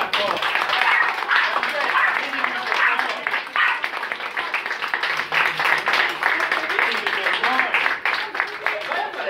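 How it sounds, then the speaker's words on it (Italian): Audience applause at a photo contest awards ceremony: dense, steady clapping from a crowd lasting the whole stretch, with voices mixed in. "Un applauso a Francesca Costa."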